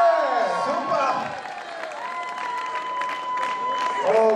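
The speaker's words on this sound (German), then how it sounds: "Können wir nochmal einen Applaus für den Hund sehen?" Spectators at a marathon finish line applaud and cheer over loud announcer-style talk and whistling tones, a busy outdoor crowd wash with voices throughout.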